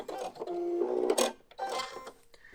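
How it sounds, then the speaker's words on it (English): A sewing machine stitches the seam of a fabric gift bag in two short, close bursts of rapid mechanical whirring and ticking, separated by a brief pause. "We're going to sew along that bottom."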